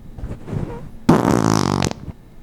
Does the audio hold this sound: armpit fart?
yes